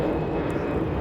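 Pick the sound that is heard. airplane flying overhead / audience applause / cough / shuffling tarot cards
airplane flying overhead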